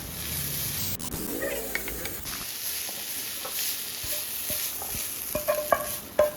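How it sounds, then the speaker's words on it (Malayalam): A sautéed mixture seasoned with cumin powder is stirred in a pan for a healthy snack, with a soft sizzle under scraping utensil strokes and a few light clicks and taps of the spoon against the pan. "ജീരകപ്പൊടിയും കൂടെ ചേർത്തിട്ട് നന്നായി ഒന്നും കൂടെ ഇളക്കുക"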